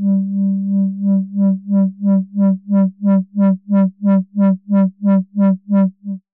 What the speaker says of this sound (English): I'm going to go to this LFO modulation knob, and I'm going to bring it all the way to the top